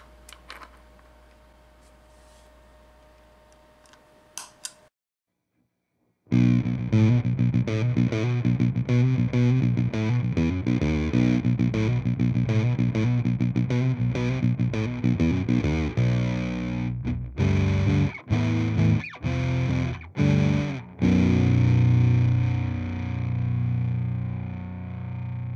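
Electric guitar played through a Big Muff Pi fuzz pedal modded with germanium clipping diodes, a thick distorted riff with sustained chords and choppy stops, loud and close after a few seconds of quiet hum and faint clicks.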